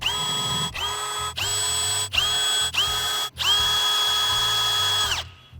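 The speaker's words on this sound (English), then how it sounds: "we're going to slide the trolling motor out of the way and use our 5/16 bit to drill the holes" A power drill fitted with a 5/16 bit bores bolt holes for mounting a trolling motor, running in five loud whining bursts with brief pauses between them, the last one the longest before it spins down and stops.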